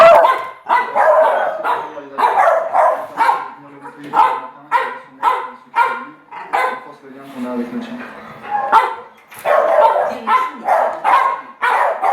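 A military working dog barks repeatedly in short, sharp bursts close by, with some yips and whines mixed between them.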